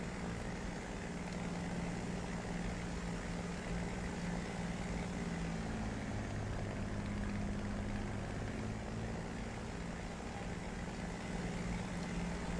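A simulated aircraft engine drones steadily in flight over a snowy Ruhr landscape in a flight sim game, a constant close, even hum that holds its level with no pauses throughout.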